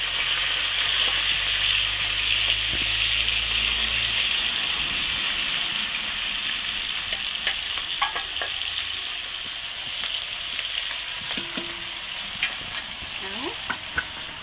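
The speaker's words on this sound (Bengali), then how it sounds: "মাছ কয়টা তেলে করে দিয়ে দেবো।" Fish frying in hot oil gives a steady, dense sizzle that holds at a fairly even level throughout, with faint scattered clicks and pops over the hiss and a brief low murmur in the background.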